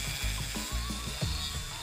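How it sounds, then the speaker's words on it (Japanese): A rotary tool fitted with a diamond mini cutter grinds a handmade crankbait lure body, a steady high whine broken by a few short scraping bursts as the bit bites into the material, close and alone. "ルーターの先にダイヤモンドミニカッターをつけて削ります。"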